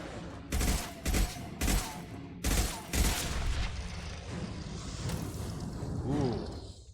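An assault rifle in Mass Effect 2 fires five short, punchy bursts in a steady rhythm, followed by a lingering noisy sci-fi ambience with a faint whooshing swell near the end.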